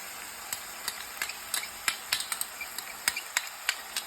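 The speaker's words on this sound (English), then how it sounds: "I'm gonna put my garlic in." Garlic hitting a hot pot for chili mac sizzles steadily, with frequent sharp crackles and pops scattered through a continuous hiss, close and fairly quiet, with no talking.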